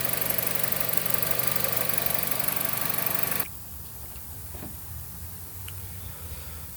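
A 2013 Chrysler 200 engine idles with a steady, even rumble for a few seconds, then cuts to a much quieter background hum.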